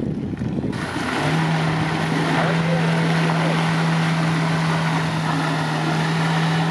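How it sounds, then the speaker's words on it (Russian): A Renault Duster being driven off-road at a trophy raid event revs hard with a steady, droning engine tone and heavy roaring noise, loud and close for several seconds. "Газует."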